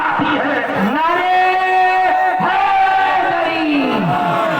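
A large Muharram gathering chants the religious slogan Haidari in unison, loud, sustained, drawn-out shouting voices rising and falling in a couple of swells that fill the space.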